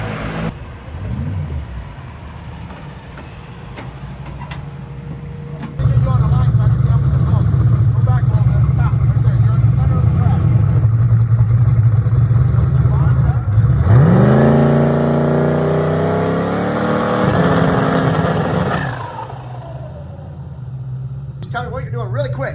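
A drag race car engine being tested idles roughly, then roars into a loud sustained run and revs with rising, climbing pitch before settling back to a rumbling idle, close by throughout.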